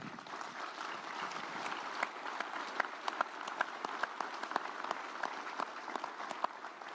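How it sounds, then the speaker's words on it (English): A crowd applauds steadily throughout, with a dense wash of clapping and a few sharper individual claps standing out, no voices on top. "He's worth applauding."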